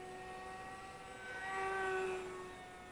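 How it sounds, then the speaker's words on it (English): A Volantex Ranger G2 RC pusher glider with a 1200mm wingspan flies overhead, its electric motor giving a thin, tonal whine that swells as it passes and then fades, faint and alone. "For a big old pusher glider."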